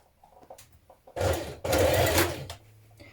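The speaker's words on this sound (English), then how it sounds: "stitch in place with a 1 centimetre seam" A sewing machine stitches the curved back seam joining two trouser legs with a 1 cm seam, running in two close, loud bursts after quiet handling noises.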